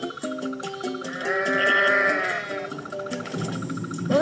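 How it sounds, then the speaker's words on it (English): Goats in the video game Goat Simulator give several loud, close bleats, one long wavering cry in the middle flanked by shorter calls, followed by a burst of rough game noise at the end. "there's goats on the tree"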